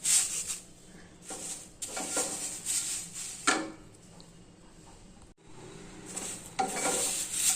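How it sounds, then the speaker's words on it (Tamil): Moringa leaves dry-roast in a pan, with repeated scraping stir strokes and a faint crackle coming and going in bursts, heard close with no talking. "மிக்சர் நல்லா வறுபட்டுருச்சு இப்போ நம்ம ஸ்டவ் ஆஃப் பண்ணிக்கலாம்"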